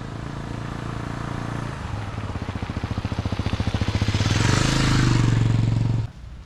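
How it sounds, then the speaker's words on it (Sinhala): A 250cc Honda Baja XR250 off-road motorcycle in Sri Lanka runs up close with a steady pulsing engine note. The engine revs higher and louder, then cuts off sharply near the end. "ඕනෙම වලක ඕනෙම කන්දක ඒත් එක්ක ඕනෙම වලගොඩ වල තියෙන පාරක ලේසියෙන් යන්න පුළුවන් බයික් එකක්"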